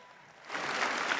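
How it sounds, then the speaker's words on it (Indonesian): Applause from a conference plenary audience swells up about halfway through, a steady broadband clatter of clapping after a quieter opening. "Boleh kita berikan tepuk tangan sekali lagi hadirin."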